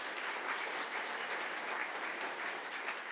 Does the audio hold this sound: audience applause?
yes